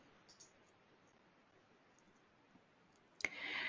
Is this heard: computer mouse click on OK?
yes